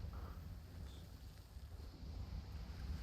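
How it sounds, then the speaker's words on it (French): Wind blowing steadily across open sea while sailing in Sea of Thieves, a continuous, fairly loud low rumble and gusty hiss with no talk. "Putain, ce vent de Merde."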